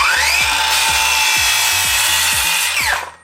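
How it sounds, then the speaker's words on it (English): A circular saw cutting through a wooden board, with a loud, steady high-pitched whine and repeated low knocks as the blade bites, before it winds down and stops at the end. "start the saw, wait till the blade is up to speed and then push forward and make your cut"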